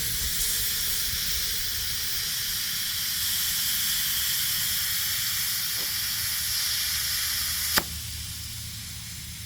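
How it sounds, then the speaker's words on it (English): A broken, badly leaking valve stem on a tire of a 1964 Chevelle lets air escape in a steady, continuous hiss close by, holding constant for the whole stretch with one brief click near the end. "The valve stem's leaking real bad on this one."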